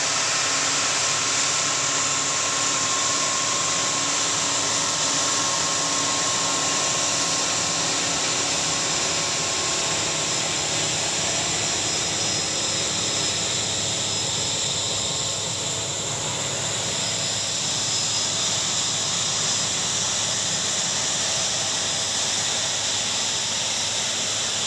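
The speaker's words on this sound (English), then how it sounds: "he's got the John Deere 8430 tractor and the air sprayer" A John Deere 8430 tractor pulling an air sprayer through a wheat field runs steadily and loud throughout, a constant engine roar and high fan hiss with no talking.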